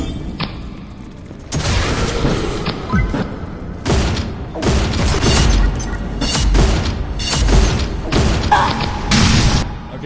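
A mythical shotgun fires in the mobile shooter game Pixel Gun 3D on the Wind Temple map, with repeated loud booming blasts in bursts, thuds and mechanical clatter between them.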